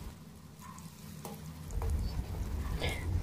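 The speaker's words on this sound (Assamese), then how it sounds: "মেৰিনেট কৰি থোৱা সোয়া চাপখিনি ফ্ৰাই কৰি লওঁ" Marinated soya chaap frying in hot rice bran oil gives a steady sizzle that swells louder about halfway through and continues close and unbroken, with no talking.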